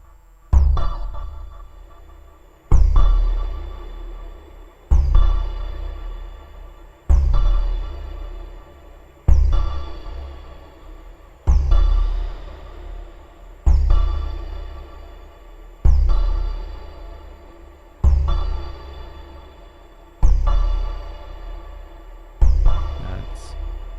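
A series of heavy synthetic booms from a Eurorack modular synth, about ten in a steady rhythm, each hit decaying into a long reverberant tail.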